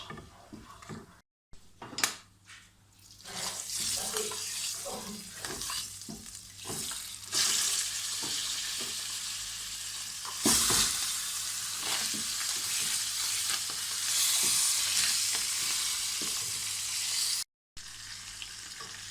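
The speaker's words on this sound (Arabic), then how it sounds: "هون أنا بس راح أعطي الدجاج لون وياخد طعم البهارات" Chicken pieces fry in oil with toasted spices in a pot, giving a soft continuous sizzle broken by scattered clatters and scraping of a utensil, fairly quiet and close.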